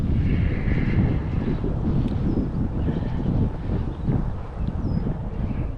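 Wind buffets a camera microphone beside the Erie Canal, making a loud, uneven low rumble that surges and dips throughout without a break.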